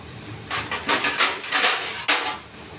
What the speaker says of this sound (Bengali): এবার আমি ঢাকনা দিব